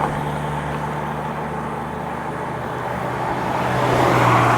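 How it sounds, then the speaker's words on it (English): A steady wash of road traffic builds as several cars pass close by on a road, one approaching louder toward the end, heard from a cyclist's position with no talking. "A lot of cars passing."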